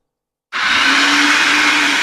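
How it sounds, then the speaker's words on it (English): A food processor blending hummus switches on abruptly after a brief silence, then runs as a loud, steady whirring motor close by. "it's a food processor that does its thing."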